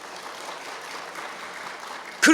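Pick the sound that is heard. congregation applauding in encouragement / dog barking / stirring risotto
congregation applauding in encouragement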